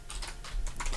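Quick clicking keystrokes on a computer keyboard while C++ code is typed, a short burst of several close, crisp taps.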